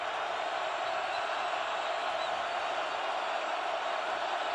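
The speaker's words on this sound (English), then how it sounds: "The largest crowd on history on their feet, making some noise, looking for a stop." A record-sized college football stadium crowd at a 2012 Kansas State versus Iowa State game roars on its feet, a dense, steady wash of noise that holds at an even level throughout.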